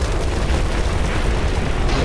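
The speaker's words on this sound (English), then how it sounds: "grenade!" A grenade going off in the game Army of Two: The Devil's Cartel, a loud, dense rumbling blast with heavy low-end roar sustained throughout the short moment.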